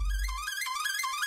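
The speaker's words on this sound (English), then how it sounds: "stretch it to 1 bar. So now it sounds like this." A melody sample squeezed to a single bar in FL Studio, giving a bright, fast, wavering high-pitched tone with a brief low thump at the start, steady and alone.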